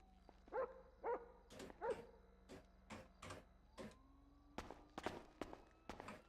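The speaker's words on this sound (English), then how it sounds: "That dog's been here." In a GTA V roleplay game, a dog barks in a steady run of sharp, evenly spaced woofs close by, with footsteps mixed in and no talking over them.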